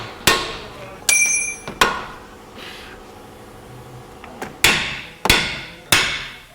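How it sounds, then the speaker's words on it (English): Sharp metal hammer strikes on a chisel separating a rusted suspension part on a Nissan Cube, about seven loud, evenly spaced blows with quiet gaps between them. "just take a little chisel and you can separate it just a little bit"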